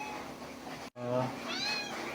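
A domestic cat in labour gives a drawn-out, strained meow right after a brief break, heard up close over background noise and a murmuring voice.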